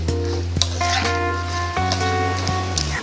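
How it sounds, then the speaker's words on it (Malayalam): Bitter gourd stirred with salt and curry leaves in a pan, a few scraping clacks and light sizzle over a steady tonal hum. "ഇനി ഇതെല്ലാം കൂടി നന്നായിട്ടൊന്ന് ഇളക്കി കൊടുക്കണം."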